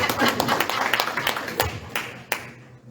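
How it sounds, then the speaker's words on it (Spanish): A small church congregation claps in scattered, uneven applause that thins out to a few last claps before fading to quiet. "Denle un aplauso al Señor"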